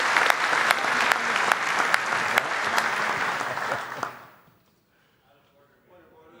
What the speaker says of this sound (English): You can clap again, don't worry.